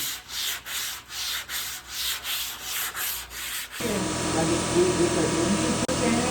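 Hand sanding with sandpaper during a vintage gas pump restoration: rhythmic back-and-forth scratchy strokes, about nine in quick succession, followed by a louder, steadier rough rubbing with faint voices in the background.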